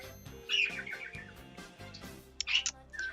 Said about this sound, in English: I love how your bird always is telling you that.